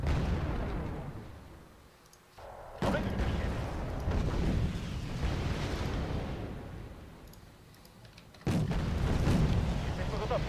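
Artillery fire in the real-time strategy game Wargame Airland Battle, heavy booming blasts and rumbling explosions that swell and fade, with two sudden loud bursts under a steady battle din.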